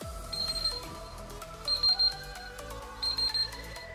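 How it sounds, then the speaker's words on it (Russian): A smart alarm clock shaped like a floor mat rings with a bright electronic melody of repeating high beeps, sounding in clear bursts with no talking. "Умный будильник в виде коврика. В заданное время начинает издавать звуки или запускает определенную мелодию."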